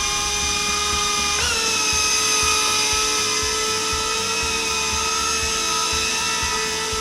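A LOOLINN U61 beginner camera drone hovers close by, its propellers giving a loud, steady high-pitched whine that rises in pitch early on and then holds constant, with no voices.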